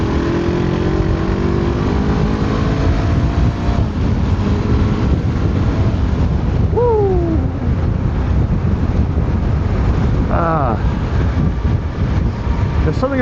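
Steady wind roar and a droning engine from a Honda CBR 500R motorcycle being ridden along a road, loud and constant throughout, with a couple of brief higher engine or tyre tones rising out of the rush.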